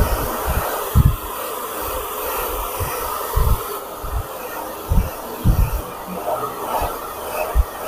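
A hair dryer blows a continuous loud whooshing hiss to dry freshly applied screen print ink, with irregular low thumps and bumps breaking through the steady airflow.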